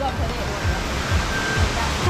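A waterfall rushes steadily nearby, a dense, unbroken roar of falling water that stays loud and even throughout.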